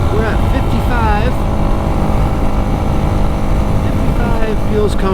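A Honda CRF300L or X650L motorcycle cruises in sixth gear at about 55 on a forest trail, giving a steady, loud engine and wind drone throughout, with a rider's voice talking over it.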